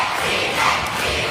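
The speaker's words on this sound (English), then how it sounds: "The school is cheering him on, and that's how excited they get when he does it." A school crowd roars and cheers in one dense, continuous burst, loud and close, with no single voice standing out.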